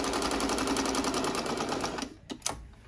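A New Home 365c sewing machine runs a zigzag stitch, its steady rapid needle rattle loud and close for about two seconds before stopping, followed by a couple of sharp clicks.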